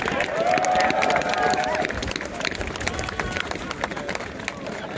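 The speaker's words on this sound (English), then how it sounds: "Give yourselves a round of applause." Loud, dense audience applause with scattered cheers and crowd noise, sustained throughout before gradually thinning out.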